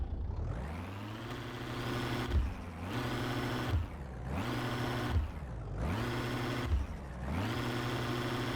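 A diesel car engine in Car Mechanic Simulator drones loudly and continuously, its pitch dipping and recovering in four regular cycles, with no voices.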